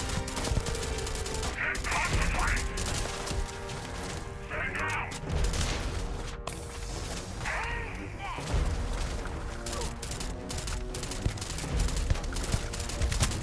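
Dense, sustained gunfire and booming explosions in the video game Starfield, loud and continuous throughout, with someone talking over the combat noise.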